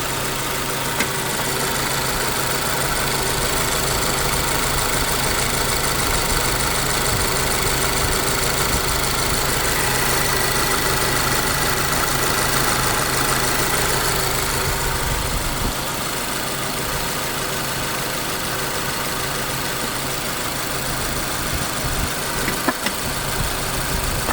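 A 2023 Subaru Forester engine idles steadily with intake valve cleaner being fed in, a continuous mid-pitched hum and rumble holding close and even throughout with no talking.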